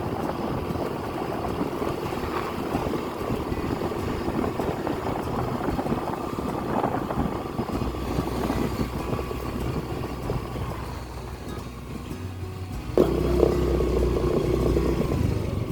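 A motorcycle engine runs steadily throughout at moderate loudness with a broadband rumble, shifting slightly in tone near the end as the bike is left parked; no talk is heard.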